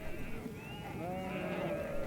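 Sheep bleat repeatedly over steady outdoor background noise on a family's overgrazed pasture, the wavering calls overlapping at moderate distance.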